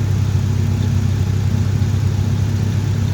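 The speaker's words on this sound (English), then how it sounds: "Ever since they changed that distributor, this car idles quieter." A car engine idles steadily after a distributor change, giving a low, even hum with a faint whir that holds constant and close throughout, with no revving.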